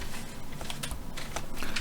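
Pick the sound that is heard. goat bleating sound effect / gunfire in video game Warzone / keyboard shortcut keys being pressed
keyboard shortcut keys being pressed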